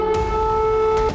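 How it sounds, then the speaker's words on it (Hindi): An air raid warning siren in Kyiv sounds as a steady, loud mechanical tone that holds for about a second before cutting off. "तभी हवाई हमले से अलर्ट करने वाला सायरन गूंजने लगा।"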